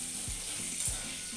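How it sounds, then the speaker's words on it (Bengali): Prawns frying in hot oil, a continuous close sizzle with soft bubbling and a few faint low knocks. "চিংড়ি মাছগুলো ভাজা হয়ে গেছে"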